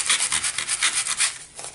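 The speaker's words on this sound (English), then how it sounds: "So I'm just going to sand the words off." Sandpaper rubbed back and forth over a paper junk-mail envelope, giving a steady, close scratchy rasp in quick repeated strokes that ease off near the end.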